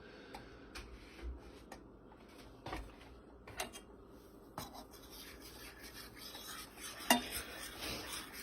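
Milk is stirred into a roux in a pan with a soft, continuous scraping of the utensil and scattered light clicks against the pan, close and fairly quiet.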